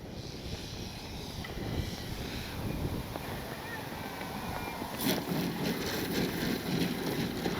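Strong wind buffets the microphone outdoors on an open flying field, a constant low rumbling rush with gusty swells throughout.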